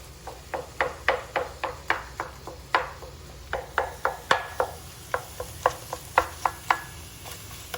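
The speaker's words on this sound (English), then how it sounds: "let's get to chopping." Steady knife chopping on a cutting board, a long run of sharp, evenly spaced thwacks, close and clear with no talking.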